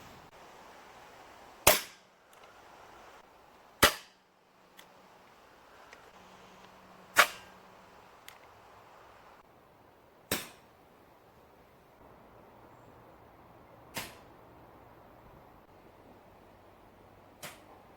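Air rifle fitted with a Hogan Decimeater moderator, dry-fired with no pellet outdoors toward a range about 15 metres away: six sharp, fairly quiet cracks spaced a couple of seconds apart, each with a short decay, over faint background hum.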